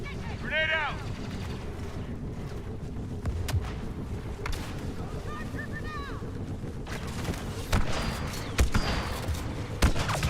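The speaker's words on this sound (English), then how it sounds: "Grenade out." A thrown grenade in Star Wars Battlefront 2 detonates amid ongoing blaster fire and battle noise, with sharp bursts scattered through a steady din and a player talking over it.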